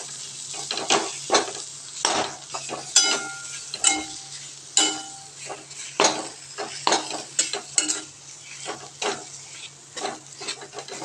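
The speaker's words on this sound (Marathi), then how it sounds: "लो फ्लेमवर आपल्याला खवा पूर्णपणे अशा पद्धतीने भाजून घ्यायचा आहे" Khoya roasts in a pan over a low flame while a spatula scrapes and stirs it repeatedly, producing sharp rhythmic scraping strokes and clinks of metal on metal over a quiet hum.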